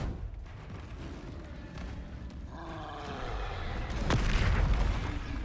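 Spell explosions from Bombarda and Confringo in the Hogwarts Legacy video game, a dull booming roar that swells in the second half with a sharp burst near the end, loud and close over a rumbling battle background.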